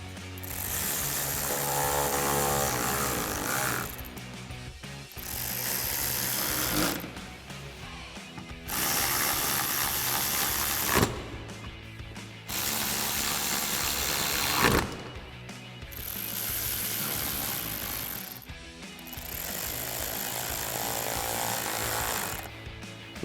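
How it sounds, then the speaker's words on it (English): A hand ratchet with a 10mm socket tightens screws along the underside of a 4Runner's bumper, sounding as bursts of rapid, close clicking separated by short pauses, with no talking. "So again, with our 10mm socket on our ratchet,"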